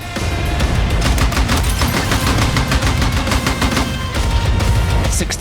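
Rapid, loud automatic gunfire from the shooter game Battlefield 6, dense bursts of machine-gun rounds hammering almost continuously with only brief gaps, close and dominant throughout.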